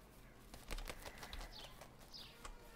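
Flock of birds taking off in an indie video game, a flurry of soft wing flaps with a couple of faint chirps, quiet and close, over a low hiss.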